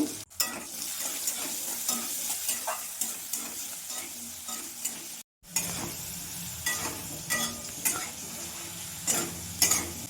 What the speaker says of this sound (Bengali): আলু ভাজা হয়ে গেছে, তুলে নেব।